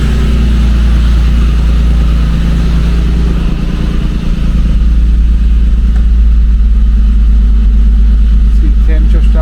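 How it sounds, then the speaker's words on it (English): Nissan 350Z Nismo 380RS engine running loud and close, a constant low rumble as the revs ease down toward idle, continuing steadily throughout. "The revs are dropping now."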